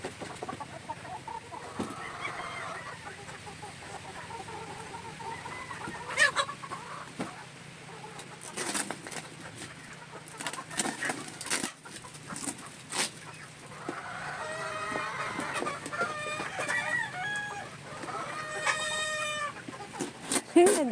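Chickens, cockerels and pullets in a breeding range cluck and call on and off, with repeated bursts of clucking that grow busier toward the end, over low background noise and occasional voices.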